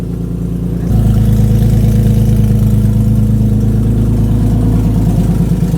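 A Nissan 370Z fitted with a cheap eBay catback exhaust starting up and idling, a loud, steady low engine drone close by that settles into an even idle after the start.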